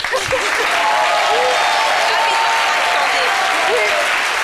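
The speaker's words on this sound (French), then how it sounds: "c'est une équipe choc que je vous demande d'applaudir" Studio crowd on a French-language midday TV show special about the FESPACO film festival claps for a team, dense sustained applause with a few cheers and whoops, loud and near, with faint voices underneath.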